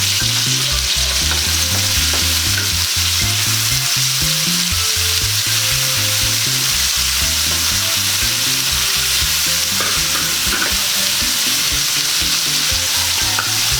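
Tomato and ginger frying in a hot pan for fish escabeche, a continuous loud sizzle with stirring and scraping throughout, no voices.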